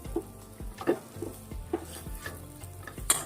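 Leftover roti snack with sugar and lemon is stirred in a pan, giving a string of sharp spoon scrapes and clinks over a soft sizzle, close and moderately loud with no talking.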